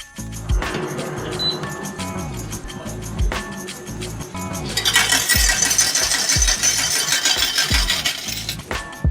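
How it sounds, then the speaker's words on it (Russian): Coins drop and clatter in a casino coin machine aboard the AIDAdiva cruise ship, a steady metallic jingle of many coins running through the clip and swelling louder toward the end, with mechanical clicks and background casino noise. "Как много монеток."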